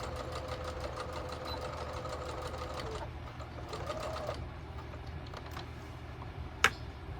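A sewing machine stitching down the corner of a pillow slipcover runs in a steady, fast mechanical rhythm, pauses briefly, then resumes before a single sharp click near the end.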